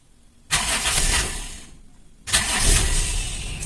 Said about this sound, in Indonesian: 2 kali starter, nggak saya gas